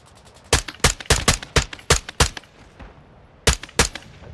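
Gunfire in the video game Call of Duty: Modern Warfare II: about ten sharp, loud shots in uneven bursts, a quick cluster followed by a pause and then two more cracks, with no talk.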